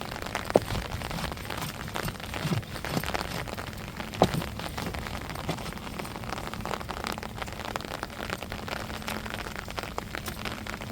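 Steady, dense rain pours down without pause, a constant hiss of drops hitting surfaces with occasional sharper taps close by.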